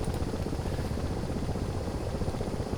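A Ka-50 Black Shark helicopter flies in the DCS combat flight simulator, its rotor giving a steady, loud, low chopping drone that continues unbroken without any talk.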